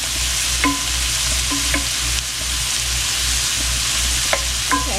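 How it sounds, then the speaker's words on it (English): Garlic sautéing in a pan for a cornbread chili bake gives a steady sizzling hiss throughout, broken by a few sharp scrapes and clinks of a utensil stirring it, with no voices. "Okay, I just put my garlic in. I'm going to let that saute for maybe a minute"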